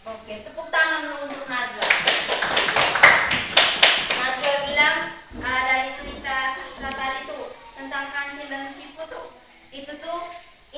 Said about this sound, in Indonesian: tepuk tangan dulu untuk Najwa